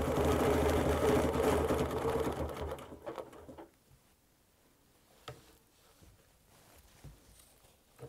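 A sewing machine stitches a quilt along a ruler template, a close rapid mechanical whir for about three seconds that stops, followed by quiet handling taps and faint shuffling.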